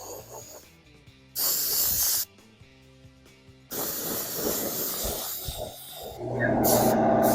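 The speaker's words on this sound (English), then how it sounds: "There's my air compressor, just in time." A shop air compressor kicks on during an evening painting session, giving loud, broad hissing motor bursts that stop and restart, then settle into a steady roar that swells louder toward the end, with no talking.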